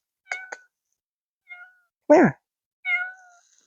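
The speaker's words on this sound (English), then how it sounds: "It's a kitty cat." A cat gives several short meows, spaced apart and close by, mixed with a person's voice calling to it.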